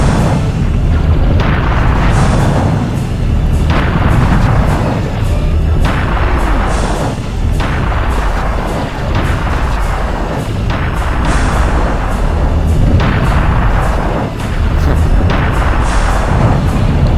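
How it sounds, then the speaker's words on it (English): Rockets fired and exploding in the video game Serious Sam, a loud repeated sequence of heavy booming blasts every second or two over a continuous rumbling din. "Major rockets coming out of the darkness."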